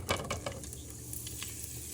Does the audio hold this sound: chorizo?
yes